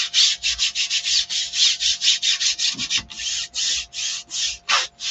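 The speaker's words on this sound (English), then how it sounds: "so I've got it burnished on there" Steady back-and-forth rubbing burnishes a Chalk Couture transfer onto a wooden surface, a close, raspy scrubbing in quick even strokes with brief pauses and a few light taps between passes.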